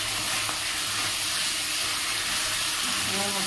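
Spice paste for a Bengali katla fish curry sizzles in oil in a pan, a steady, close, even frying hiss that runs without a break.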